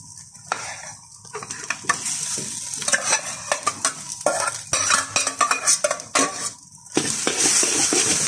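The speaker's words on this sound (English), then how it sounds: "what we're doing now is we're drying the rice out and making sure it's really hot" Cooked rice stir-fried in a hot pan with sausage, loud close sizzling interrupted by repeated spatula scrapes and tosses against the pan, with brief quieter gaps between bursts and no talk.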